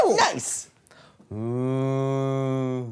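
After a brief exclamation, a long, steady low moo sounds for over a second, close and clear, like a voice imitating a cow.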